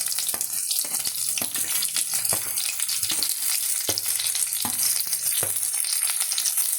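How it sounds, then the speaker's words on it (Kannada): Onions sizzling in a pan with green chillies and curry leaves while a masala dosa filling is prepared, a steady close frying hiss with occasional stirring clinks and taps, no talking. "ಹಸಿಮೆಣಸಿನ್ಕಾಯಿ ಎಲ್ಲ ಫ್ರೈ ಆದಮೇಲೆ ಈರುಳ್ಳಿಯನ್ನು ಹಾಕ್ಕೊಳ್ತಾ ಇದ್ದೀವಿ"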